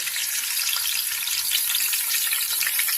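A whole onion frying in a pan for alkaline chickpea masala, producing a bright, steady, close-up hiss of sizzling oil with faint crackle throughout.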